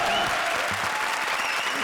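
A studio comedy show audience breaks into loud, dense applause that holds steady throughout, a continuous wash of many hands clapping at once, with faint crowd murmur beneath.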